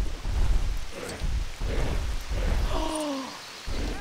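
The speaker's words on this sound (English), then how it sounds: "Then you come over here, and it starts pouring rain." Heavy pouring rain falls in the Lego Jurassic Park video game on PS4. It makes a dense, rumbling wash with low thundery surges, and a brief synthetic whine rises near the end.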